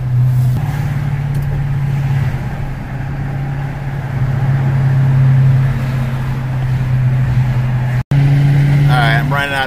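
Dodge Charger Daytona 392 cruising on a highway, a steady low engine drone and road rumble inside the cabin with a slight swell in revs, someone talking over it.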